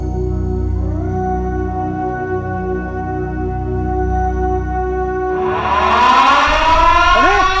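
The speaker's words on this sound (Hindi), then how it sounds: "सायरन बज चुका है" A civil defense siren sounds loudly and continuously, holding a steady droning wail before a harsher, brighter surge with rising sweeping tones breaks in near the end.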